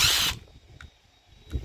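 A power drill whirs briefly and loudly at the start as it backs screws out of a motor hold-down strap during scrapping, then falls to quiet handling noises.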